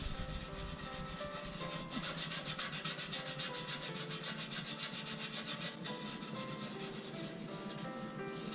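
Grime is scrubbed off stovetop grates with steady, rapid rubbing strokes, a continuous rasping scour heard close up without any talk.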